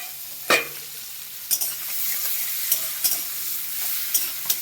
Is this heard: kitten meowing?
no